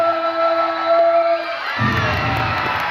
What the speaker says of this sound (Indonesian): Kalau berhasil kita kasih tepuk tangan yang besar.